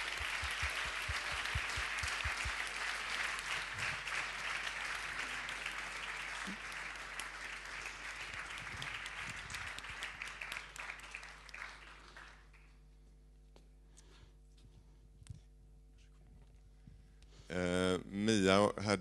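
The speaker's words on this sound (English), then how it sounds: "A big applause." An audience at a Nordic documentary award ceremony claps steadily for about twelve seconds, the applause gradually fading into a quiet room before a voice begins speaking near the end.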